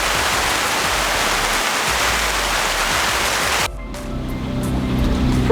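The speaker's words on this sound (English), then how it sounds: "storms were building every day, with spectacular lightning and torrential downpours" Torrential rain during a storm in Suriname, a loud, broad rushing downpour that cuts off sharply partway through, leaving quieter background noise with faint low hum as the level slowly rises again.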